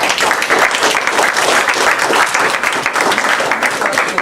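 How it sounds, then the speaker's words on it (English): Sustained audience applause filling a room after a talk, a dense steady wash of many hands clapping at full loudness throughout with no pauses. "can I ask everyone to give a round of applause"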